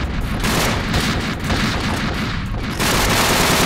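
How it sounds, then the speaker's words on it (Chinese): A flying monster self-destructs in the Minecraft video game, producing a loud, dense burst of crackling explosive noise that continues throughout, easing slightly mid-way and then surging again. "它自己自爆的。"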